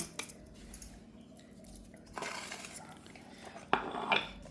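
Cooked Nagar-style kala mutton preparation is scooped from a pan onto a plate, with a few scattered scrapes and soft clinks of utensil on metal, faint and close.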